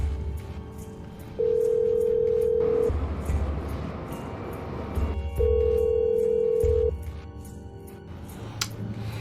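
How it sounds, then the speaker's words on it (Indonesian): Ringback tone of an unanswered telephone call: two long, steady tones about four seconds apart, each lasting over a second, heard alone with no talking. "Coba deh aku telepon Eyang."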